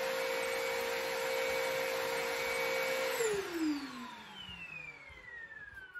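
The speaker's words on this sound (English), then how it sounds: "let me turn the vacuum off" A Perfect C105B vacuum cleaner whines steadily, then shuts off, its pitch sliding down as the motor winds down to quiet.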